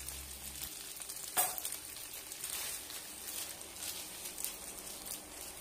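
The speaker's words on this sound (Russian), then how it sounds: "Добавляем пасту к соусу и все хорошо перемешиваем" Pasta tossed into amatriciana sauce with grated pecorino gives a soft, steady sizzle and wet stirring close by, with one sharp clink near the start and no talking.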